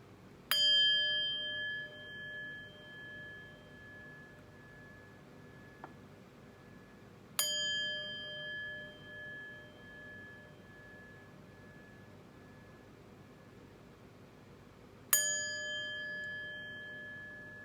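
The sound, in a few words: chimes ringing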